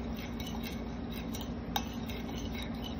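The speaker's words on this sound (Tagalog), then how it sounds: "So, ang gawin natin ngayon ay mix natin sa ano." Metal utensil stirring and scraping a home-cooked dish in a pan, with light clinks and taps over a steady low sizzle-like hum, close and fairly quiet, no voices.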